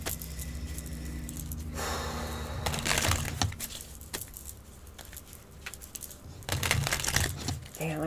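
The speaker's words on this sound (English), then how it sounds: "I'm going to give these a shuffle or two because I forgot to shuffle them" Tarot cards being shuffled by hand, bursts of riffling and flicking with crisp snaps and quieter pauses between, close and fairly soft.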